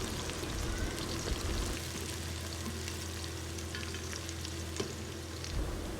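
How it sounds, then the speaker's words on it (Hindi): Onions and three green chillies fry and sizzle steadily in hot oil as they are stirred together for an aloo gobi salan, with a continuous hiss and occasional scrape of a spoon, close and alone without any voice. "इसमें सब्ज़ मिर्चें डालें और फिर इनको अच्छे से मिक्स कर लें"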